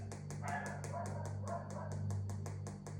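A dog barks repeatedly in a steady rhythm, sharp and fairly close, over a constant low hum.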